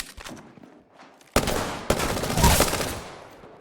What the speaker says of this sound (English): My prowler turned into a full auto prowler for a second there.